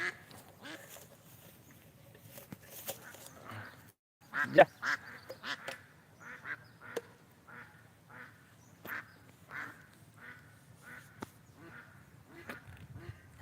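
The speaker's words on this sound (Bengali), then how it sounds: "অনেক হাঁস এখানে আছে তো এই যেখানে অনেক হাঁস আছে হাঁসে ডাকছে" A flock of ducks quacks in irregular bursts, some calls loud and close and others fainter, scattered over the whole stretch with short gaps between calls. Light talk is mixed in.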